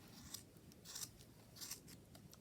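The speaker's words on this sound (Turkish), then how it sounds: "ve kesmeye başlıyorum. Yani şimdi önce kabaca keseceğim." Scissors snip through yarn while a crochet pompom is being trimmed, giving quiet, close, repeated crisp cuts in an irregular rhythm with no talking.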